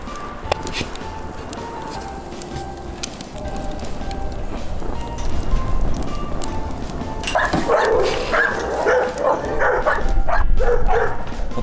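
A dog barks and yips repeatedly in a home, sharp bursts scattered across the clip, growing busier and louder toward the end, with some faint background noise.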